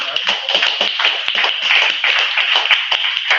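Audience clapping at an open mic night, a small group's quick, uneven claps sounding thin and close, continuing steadily for a few seconds.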